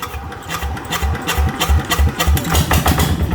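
A walking tractor engine running at idle after starting, a loud, close, rhythmic thumping chug of a single-cylinder motor with rattling overtones, steady throughout without speech.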